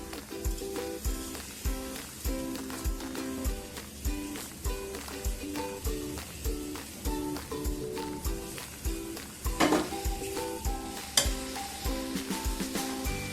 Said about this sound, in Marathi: हे सगळं मिश्रण आहे ना परतून घ्यायचं आहे छान